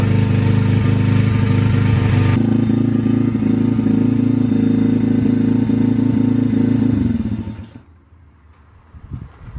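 The engine of a repaired MRF 140 RC pit bike runs loud and close, with a rough, rapid, throbbing idle held for several seconds. It then cuts out abruptly, leaving faint mechanical clatter behind.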